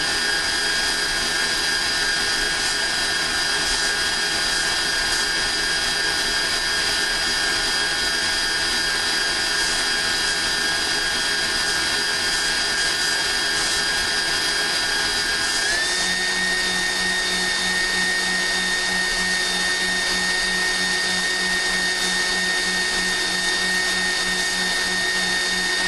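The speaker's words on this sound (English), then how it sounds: "Don't turn off the mixer until you see it getting really liquidy" An electric mixer whirs continuously as it churns cream into butter, a loud steady motor drone that shifts pitch partway through and keeps running alone without talk.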